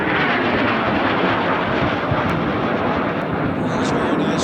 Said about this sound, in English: This is a Learjet 24 business jet.